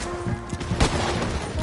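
Gunfire in the video game Red Dead Redemption 2, a loud, dense crackle of shots with a sharp burst near the middle, with no talk over it.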